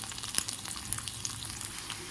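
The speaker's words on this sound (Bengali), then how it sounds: "আদা রসুনটা ভাজা ভাজা হয়ে গেছে" Whole pieces of ginger and garlic fry in hot oil in a pan, giving a soft, continuous sizzle broken by small crackles and pops, quiet and close, with no voices.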